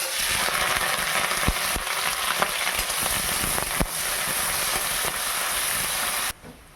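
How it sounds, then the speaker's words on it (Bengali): Torn dried red chillies and onion frying in hot mustard oil produce a dense, loud crackling hiss with sharp pops throughout, cutting off abruptly near the end. "তেল গরম হয়ে গেছে, এবার দিয়ে দেবো শুকনো লঙ্কাটাকে এইভাবে ছিঁড়ে দেবো। তারপর দিয়ে দেবো পেঁয়াজ"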